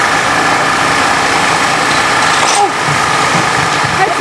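A drag-racing car engine idles loud and steady at the start lanes, a brief throttle bump barely lifting the rough, continuous drone.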